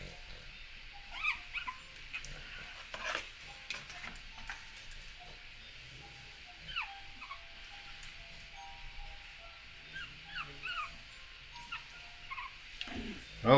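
Pug puppy at five weeks old giving scattered soft whimpers and high yips, faint and close, in a quiet room with light handling noises.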